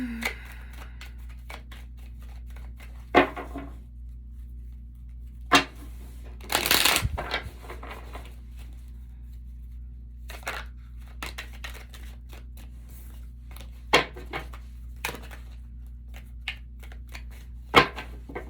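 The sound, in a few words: shuffling tarot cards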